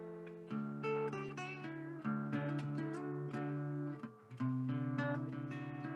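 Acoustic-style guitar being retuned, with plucked single notes and short strummed figures repeated while a string's pitch is nudged, close and moderately quiet, with no talking.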